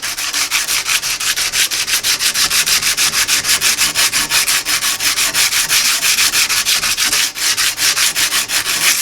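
Aggressive abrasive sanding along the edge of a hand-forged blade, a steady run of rapid back-and-forth rubbing strokes, close and loud throughout with no talking.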